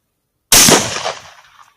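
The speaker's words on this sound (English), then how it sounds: "try and get a little bit of elevation so I can shoot down into this paddock" A single sharp rifle shot fired during a night fox hunt over a paddock, a loud close crack that bursts from silence and decays into a brief rolling echo.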